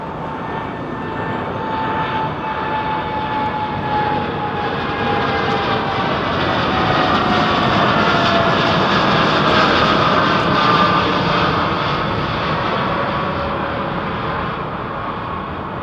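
A jet airliner departs London Heathrow with a loud, sustained engine roar that swells toward the middle and stays strong throughout, with no speech.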